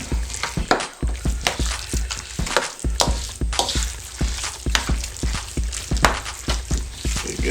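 Sweet potato pie filling with sugar being mixed in a bowl, a steady, rapid run of wet squelching strokes and dull knocks repeating at close range.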